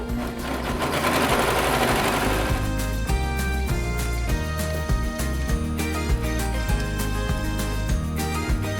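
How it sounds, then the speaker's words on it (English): A serger overlocks the fabric of an upcycled dress, running in a fast, steady mechanical chatter with brief pauses and restarts, close and loud, with no talk. "I'm gonna serge it first"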